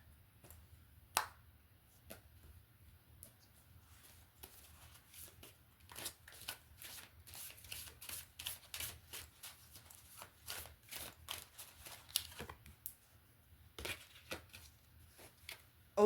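A deck of cards is riffled and shuffled up close, with quick crisp flutters and snaps repeating in bursts, quiet and alone.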